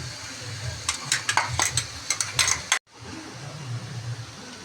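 Ground coconut being stirred into a chayote stir-fry in a pan, with a run of clattering spoon-on-pan scrapes and knocks, close and moderately loud, then a brief cutoff and a quieter low sizzle.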